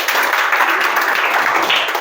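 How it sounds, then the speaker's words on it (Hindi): A crowd of children clapping for a classmate during a Hindi reading lesson, a steady dense patter of applause that carries on without a break. "तो प्यारे बच्चों, आप लोग शाश्वत के लिए ताली बजा दीजिए"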